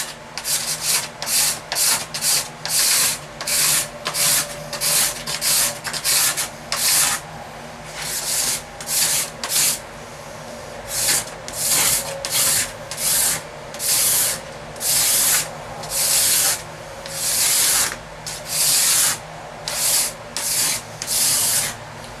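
A hand plane takes thin, fine shavings off a wooden instrument back being thicknessed, in steady, loud, rhythmic rasping strokes that run throughout with brief pauses.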